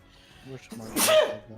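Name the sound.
sneeze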